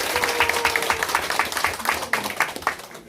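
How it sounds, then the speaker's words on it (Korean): Warm applause at a Freedom Village launch ceremony in Gasan-myeon, Pocheon, Gyeonggi Province, with distinct nearby hand claps over a background of crowd clapping and a faint murmur, steady for about three seconds. "다시 한번 뜨거운 박수 좀 쳐보겠습니다."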